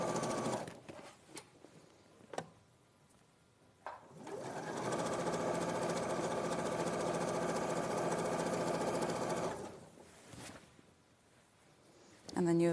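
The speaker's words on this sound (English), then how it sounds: "And then you'll just sew down the rest of the leg as normal." A sewing machine stitches down a trouser leg, its rapid needle chatter running steadily for about six seconds. Handling clicks and quiet moments come before and after the run, and the machine starts again briefly at the very end.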